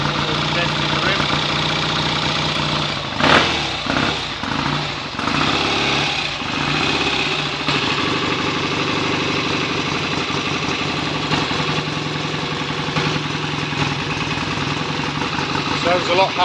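A rebuilt BSA A65 motorcycle engine runs close by on its first start after a full rebuild, with a steady idle and a few sharp revs early on. It stays loud throughout, and a voice can be heard faintly over it.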